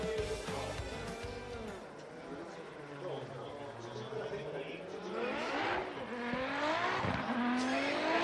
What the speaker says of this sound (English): Hakuto Matsuyama's next in his Cusco Racing 890 Supra.